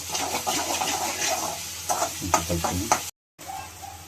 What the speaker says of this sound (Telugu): ఓకే, సాల్ట్ వేస్తాం. కొంచెం కలుపుకుందాం